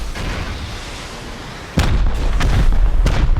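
Rockets slam into a base in the survival game Rust, a sudden heavy boom followed by several more deep, loud explosions in quick succession over a rumbling background, no talking.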